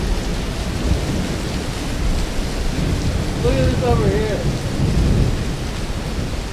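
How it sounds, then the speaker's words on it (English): Heavy rain pours down outside a shop, a dense, loud, continuous roar of downpour close by, with someone speaking briefly over it. "it starts dumping the rain outside."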